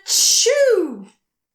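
A voice imitates a baby dragon's sneeze at a children's storytime: one sharp breathy hiss followed by a falling, squeaky vocal tone, loud and close.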